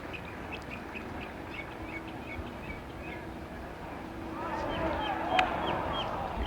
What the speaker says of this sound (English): You can hear the birds are singing